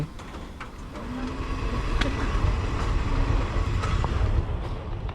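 A train rides along the line toward Ban Kao station in Thailand, a steady rumble of wheels and carriage noise running throughout with a few faint clicks, no voices.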